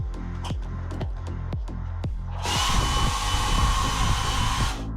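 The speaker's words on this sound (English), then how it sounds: "Hairdryer." A cruise ship interior cabin hair dryer on a Carnival Encounter switches on partway through, blowing loud and steady after a few knocks and thumps, running continuously to the end.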